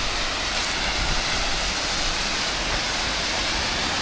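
Little Egypt waterfall on a Tennessee creek roars in a steady, loud, broadband rush of falling water, constant and unbroken throughout with no voices.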